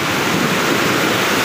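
Floodwater rushes down a road in Majua, South Sikkim, during a landslide after heavy rain, a loud, steady roaring wash of water that fills the whole moment without any voices.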